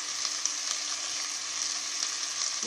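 Chicken frying with garlic in a pan gives a steady, even, hissing sizzle, soft and constant throughout with no talk.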